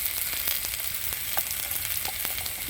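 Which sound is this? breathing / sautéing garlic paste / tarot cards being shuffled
sautéing garlic paste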